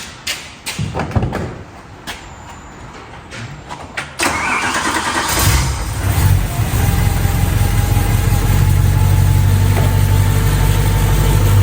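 A track car engine cranks after a few thumps, catches with a rising roar and settles into a loud, steady, rumbling idle close by.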